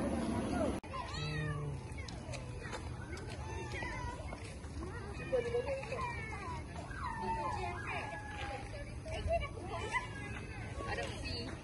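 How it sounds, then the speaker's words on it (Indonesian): Many cats meow over one another, high wavering cries overlapping continuously at close range, with a person talking underneath. "Berpuluh kucing ni."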